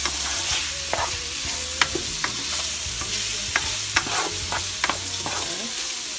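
Vegetables seasoned with salt, pepper, garlic and turmeric sizzle in a pan for lo mein while a utensil stirs them, giving sharp scraping clicks over a constant frying hiss, with soft music underneath.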